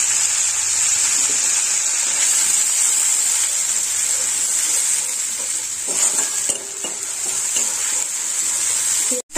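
Onion paste cooks with added water in a pan for a paneer and katla fish curry, giving a steady, loud sizzle and bubbling hiss with occasional stirring scrapes near the end.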